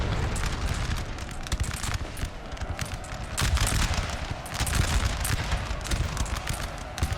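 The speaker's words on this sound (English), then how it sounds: "We are getting hammered by that artillery" Artillery and musket fire rumble across a Napoleon: Total War battlefield, heavy booms and crackling volleys rolling continuously at a distance with no clear gaps.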